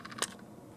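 Inside an old Telxon Quickscan barcode scanner the mirror makes a single faint, brief mechanical click amid quiet background.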